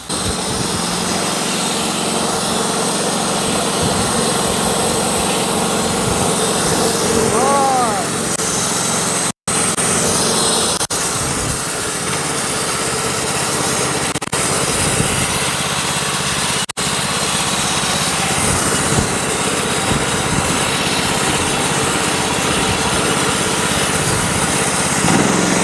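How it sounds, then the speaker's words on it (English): A homemade sawmill's small engine runs continuously and loudly while cutting a rotten old cedar log, a steady buzzing drone with occasional sharp clicks, as someone talks over it. "We're gonna push the old sawmill."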